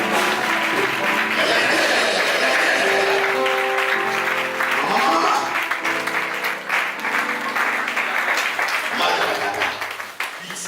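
A church congregation at a prophetic service claps and cheers for Jesus, a dense sustained crowd applause filling the room, with voices and shouts mixed in throughout.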